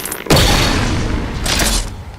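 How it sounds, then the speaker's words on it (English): Halo 4 Bolt Shot, a Forerunner shotgun-style weapon, fires in a video game with a loud booming blast that sustains for nearly two seconds, joined by a second burst. "At number 4, we have the Halo 4 Bolt Shot."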